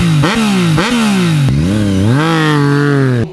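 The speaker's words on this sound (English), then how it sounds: "You get that nice, beautiful triple cylinder engine everybody loves on this bike" A 2020 Yamaha MT-09 triple-cylinder motorcycle engine revs hard and close, its loud raspy pitch climbing, dipping and climbing again in repeated throttle blips.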